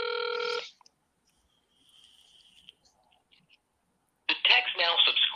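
A landline house phone, left unused for about fifteen years, gives one short electronic ring at the start. A long near-silence follows, then a voice begins speaking.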